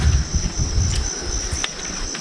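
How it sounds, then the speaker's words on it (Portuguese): Bees buzzing close to a large hive outdoors, a steady insect drone with a high whine running throughout, loud and near, with rustling and handling noise low underneath. "As abelhas estão entrando aí."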